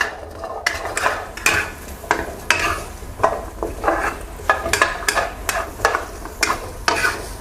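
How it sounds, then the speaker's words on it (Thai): Ten shallots, fifteen Chinese garlic cloves and fifteen green and red chilies being dry-roasted over medium heat in a pan, with repeated scraping and stirring strokes and clatters of the utensil against the pan in an uneven rhythm. "ใส่หอมแดงลงไป10หัว กระเทียมจีน 15 กลีบ พริกจินดาเขียวและแดง15 เม็ด คั่วให้สุกเกรียมและมีกลิ่นหอมเลยครับ"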